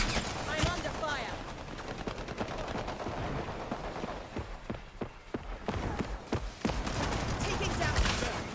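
Rapid bursts of gunfire in the video game HighGuard crackle loud and near, with fast repeated shots in clusters and someone talking over the shooting.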